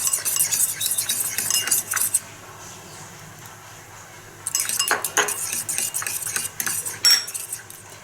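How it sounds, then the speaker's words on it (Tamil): Eggs seasoned with salt and pepper are whisked briskly in a bowl with a metal utensil, giving rapid rhythmic clinking and scraping, close and clear, that pauses for a couple of seconds midway before resuming. "எக்கை நல்லா பீட் பண்ணுங்க."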